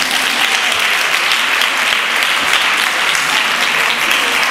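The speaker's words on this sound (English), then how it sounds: "We can give them a big round of applause." A conference audience gives a round of applause. Dense, loud, continuous clapping fills the whole span evenly, with no speech over it.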